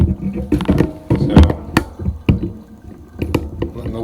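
Water drains from a bathroom sink after shaving, with gurgling, trickling and dripping sounds and a few sharp knocks, close and fairly loud.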